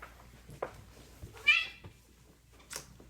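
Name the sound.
cat meowing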